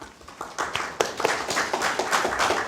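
Scattered audience applause at a policy forum welcoming a congressman, a thin, uneven patter of claps from a modest room, moderately quiet and irregular.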